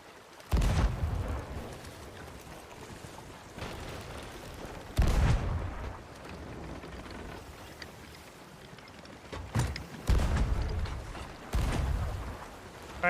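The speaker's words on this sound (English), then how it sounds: "I can't reach with this cannon anymore" Several heavy cannon blasts fire from a ship in the RuneScape 3 game, booming in spaced bursts roughly every few seconds over a low ambient background, with a couple of shots close together near the end.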